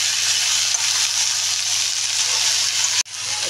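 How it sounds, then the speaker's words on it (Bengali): Colocasia flowers frying with shrimp in a pan give off a steady, loud sizzle that fills the whole stretch, cutting off abruptly near the end before resuming. "এবার কচুর ফুলটা দিয়ে ভাজা হবে"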